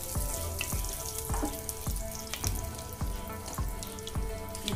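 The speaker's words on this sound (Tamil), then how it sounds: "அந்த எண்ணெயை ஊற்றிக்கோங்க. அது கூட இன்னும் கொஞ்சம் ஆயில் சேர்த்துக்கோங்க." Cooking oil left over from frying chicken is poured into a pot, a steady close liquid splatter and sizzle with repeated rhythmic pulses throughout, alone without talk.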